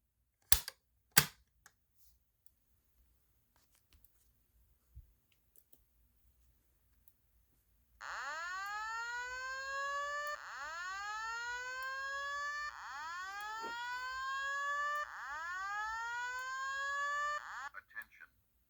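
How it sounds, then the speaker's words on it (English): A couple of sharp clicks from a Simplex pull station, then after a pause a loud electronic fire alarm starts, repeating rising whooping tones in a steady cycle that keeps sounding. "let's go ahead and activate the alarm"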